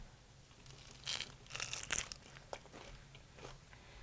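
Someone bites into crunchy Imo's pizza topped with Provel cheese, giving a short cluster of crisp crunches and tearing in the middle of the clip, close and moderately loud over a low room hum.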